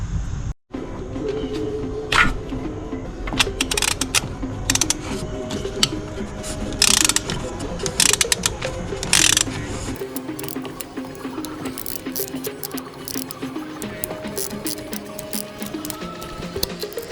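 Hand ratchet wrench clicking rapidly and close by as it loosens the exhaust manifold nuts on a 1991 Honda Accord CB7, with bursts of ratcheting, brief pauses and some metallic knocks.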